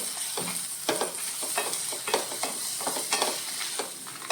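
Dried red chillies roasting in a pan for a Konkani red chutney, giving a steady close sizzle and crackle with repeated soft scrapes and stirring knocks throughout.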